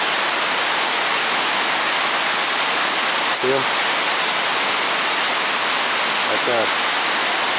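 A waterfall in Idaho rushes with a loud, constant hiss-like roar, broad and unbroken, while someone briefly speaks over it twice.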